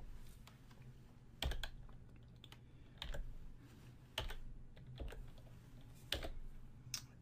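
Typing on a computer keyboard to fill in a captcha on a website, a steady patter of close, quiet key clicks with a few louder taps spaced through the stretch.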